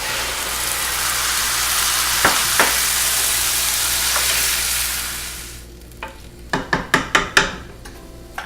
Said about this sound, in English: In go my chopped tomatoes.